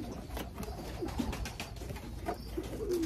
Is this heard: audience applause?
no